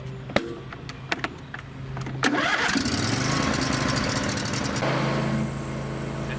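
A John Deere lawnmower engine, just bled of air in its fuel lines, clicks and cranks a few times, then catches and roars into a steady loud running idle close by.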